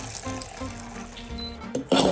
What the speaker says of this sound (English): We need to drain the water and we're gonna keep the water, very important.